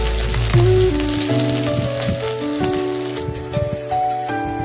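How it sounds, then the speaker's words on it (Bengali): Dried red chilli paste hits hot oil and sizzles loudly and continuously up close, a dense crackling spatter over faint background tones, with no talking. "শুকনো লঙ্কা বাটা দিয়ে দেব। লঙ্কা বাটাটা তেলের উপরে দিলে খুব সুন্দর একটা কালার আসে।"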